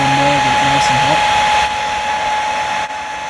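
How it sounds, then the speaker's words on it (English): A hairdryer blows air into a small forge used for hand forging gold crevicing tools, giving a loud, steady whooshing roar with a faint high whine, running continuously throughout. "So I'm going to use the hairdryer now to get it a bit more air in there, get it nice and hot."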